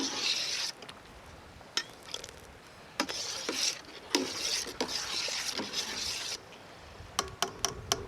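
A spoon stirring milk with vinegar in a pot for homemade paneer, with soft repeated scraping and swishing strokes against the pot, quiet and close, with short pauses between bursts.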